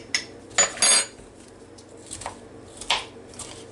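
Homemade chopped pickles, half a cup, tipped into a bowl for tuna salad: a few soft, wet clatters and spoon scrapes against the bowl, close and brief, with a quieter shuffle later and no talking.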